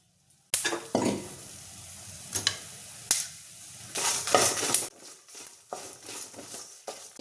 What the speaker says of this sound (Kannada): ಹಾಗೆ ಬ್ಯಾಡಗಿ ಮೆಣಸಿನ್ಕಾಯಿ, ಖಾರದ ಮೆಣಸಿನ್ಕಾಯಿ ಅಷ್ಟು ಫ್ರೈ ಮಾಡ್ಕೊಳ್ಳೋಣ.